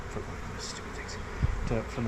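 Honey bees buzz steadily at an 8-frame hive, a close, dense hum with a few louder passes, while a person talks briefly underneath.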